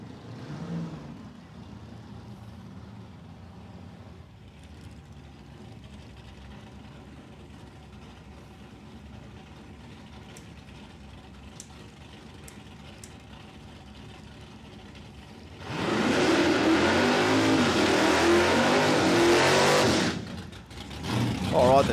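Cars at an Australian eighth-mile drag racing event, where a quiet stretch of background talk gives way to a sudden loud, close engine roar that holds for several seconds and then cuts off sharply.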